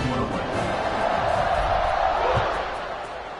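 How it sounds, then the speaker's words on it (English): Football stadium crowd at a Broncos versus Bears game buzzing after a touchdown, a steady dense roar of many voices filling the whole stretch without breaks. "this crowd is buzzing after that last score"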